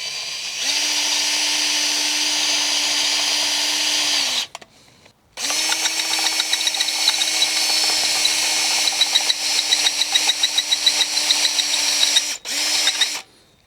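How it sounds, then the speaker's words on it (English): A power drill whines steadily at high speed, drilling out the metal baffle of an old BSA Goldstar 650 motorcycle exhaust silencer in two long runs separated by a short pause, then a final brief burst. "drill out the baffle of the old exhaust silencer"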